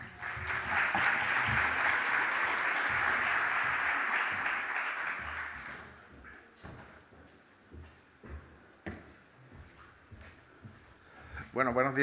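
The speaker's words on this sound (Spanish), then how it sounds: "Un fuerte aplauso." An audience applauds loudly and steadily at a talk introducing a speaker, the clapping fading out after about six seconds into scattered room noises and a few shuffles.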